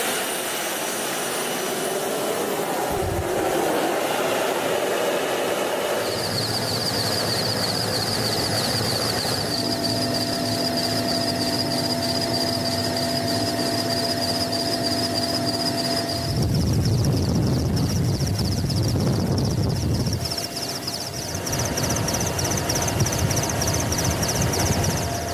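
Heard from on board an army helicopter in flight, a constant loud rotor and turbine roar with a high whining tone, steady throughout with no talk.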